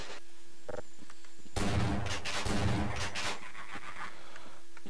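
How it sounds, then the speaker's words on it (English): A shotgun firing in the shooter game Half-Life, a heavy booming blast followed by a couple of seconds of dense, rumbling follow-up shots over a steady background hum, with no talking. "Getting the shotgun out."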